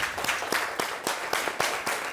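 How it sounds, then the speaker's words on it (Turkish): A studio audience on a Turkish cooking competition show claps steadily and fairly softly, with regular, evenly spaced clapping that continues alone for a couple of seconds. "Bir alkış lütfen ona da moral olsun."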